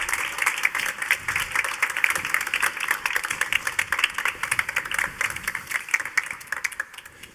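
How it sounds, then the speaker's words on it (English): An audience applauds steadily, with dense, fairly soft clapping continuing throughout and no voices over it. "please give them a warm round of applause"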